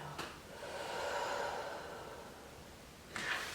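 During a yoga breathing exercise, a slow, audible exhale of breath rises and fades over a few seconds and is framed by short, sharp breath sounds at each end. It is heard close and quiet with no talk.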